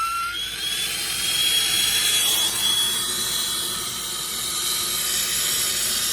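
A torch flame hisses steadily close to the compressor of a Sub-Zero legacy 24-inch beverage center, a continuous broad roar with a faint tonal whine running through it, fairly loud and with no talk.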